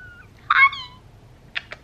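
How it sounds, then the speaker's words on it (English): A single drawn-out meow from a nearby cat, followed by two short, faint chirpy sounds. "Hi kitty."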